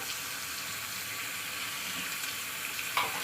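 Fish frying in a pan with chopped green chillies, a continuous close sizzling hiss with a small sharp crackle near the end, no voices.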